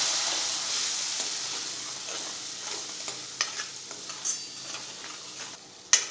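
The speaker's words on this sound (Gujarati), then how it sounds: "અને સાતળી લઈશું મસાલાને." Masala spices for Mumbai-style pav bhaji sizzle and fry in oil with a little added water, steady hiss fading gradually while a spoon stirs and scrapes with several sharp clicks.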